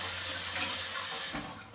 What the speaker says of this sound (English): I'll just maybe rinse it off